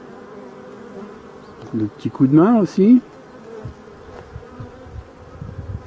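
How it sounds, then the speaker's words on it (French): Honey bees arriving at a small swarm's hive give off a steady buzzing drone, with a louder close pass of a bee near the middle. Someone speaks briefly over the buzz. "les abeilles arrivent"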